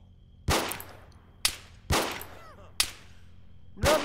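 Gunfire in the video game ARMA 3 Altis Life: five loud, sharp single shots spaced irregularly over a few seconds, each with a ringing decay, with no talking.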